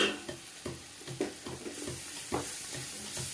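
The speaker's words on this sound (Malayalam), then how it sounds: "അങ്ങനെ പതുക്കെ നമുക്കൊന്നിങ്ങനെ ഇളക്കി കൊടുത്താൽ നല്ലോണം വറുക്കേണ്ട ആവശ്യമൊന്നുമില്ല" Spices, including cumin, fennel, allspice powder, turmeric and chili powder, stirred while frying in oil in a pan, giving a steady soft sizzle with repeated scraping strokes of the spoon, close and alone with no voices.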